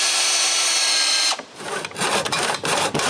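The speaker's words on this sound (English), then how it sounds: "Then I drill some pilot holes and screw all the stretchers." A power drill boring pilot holes into wood for chaise longue stretchers, a steady high whine first, then short bursts of drilling with brief pauses between them, close and loud.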